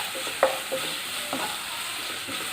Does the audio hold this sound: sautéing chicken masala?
yes